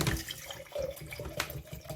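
Tap water runs into a cup, a soft continuous splashing trickle heard close up and fairly quiet, with no voices over it.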